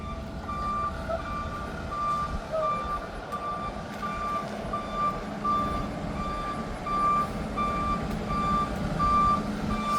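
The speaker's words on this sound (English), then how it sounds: "I'm guessing they're going to turn this truck around so they can either load it up with debris" A truck turning around on a town main street sounds steady reversing beeps at a regular pulse, fairly distant and faint over a rumbling engine and low traffic noise.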